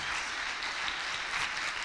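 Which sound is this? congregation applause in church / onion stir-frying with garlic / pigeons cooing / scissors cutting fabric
congregation applause in church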